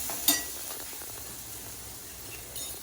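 Onions sautéing in a pan for kadalai curry give a soft, steady sizzle close by, with a brief sharper clink or scrape near the start and another faint one near the end.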